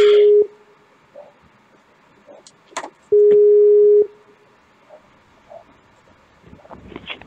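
A telephone busy signal during an attempt to call someone back: a steady tone bursting briefly at the start, then sounding again for about a second midway, with faint line noise and small clicks between.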